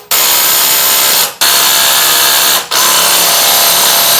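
Ryobi impact driver hammering to break free a fastener driven by a Ridgid impact, three loud, continuous bursts of rapid impacts separated by brief pauses, close and unaccompanied by voices.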